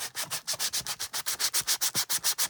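A sanding sponge scrubs back and forth across the cover of a Victorian junk journal, making a steady, fast run of close, raspy rubbing strokes, about seven per second, with no voices.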